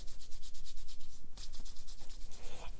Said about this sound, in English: Rub hands palm to palm.